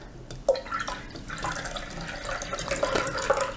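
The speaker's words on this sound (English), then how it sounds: "I'm going to pour this juice into the very, very full pan of water" Juice poured from a container into a very full pan of water while making marmalade, a steady close liquid trickle and splash that runs throughout, with small drips near the start.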